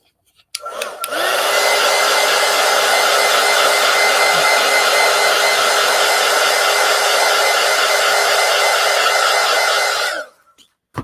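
A hair dryer switches on and blows a loud, steady whooshing roar at close range over a paper collage for about ten seconds, then clicks off.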